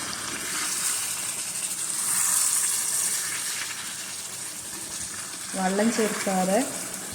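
Beef sizzling and frying in a pan for Kerala-style pepper beef varattu, a steady broad hiss throughout with a short burst of faint voice-like tones near the end.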